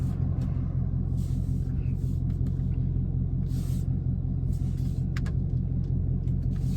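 Cars pass along a road beside a parked vehicle, a steady low rumble with a few swells of tire and engine noise drifting by at moderate distance, no talking.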